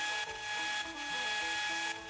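A 2x72 belt grinder smooths a knife blade on its top wheel, a steady high whine with a tonal hum, broken by brief grinding surges as the blade is pressed against the belt.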